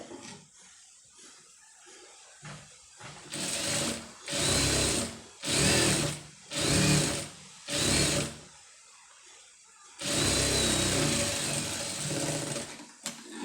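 An electric sewing machine stitches an embroidered sleeve in several loud, close bursts of rapid whirring, separated by short pauses, with one longer run at the end.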